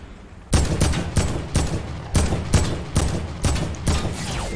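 Rapid bursts of gunfire in a PC multiplayer shooter: eight or so sharp, loud volleys in an uneven rhythm, close and dominant with no talk over them.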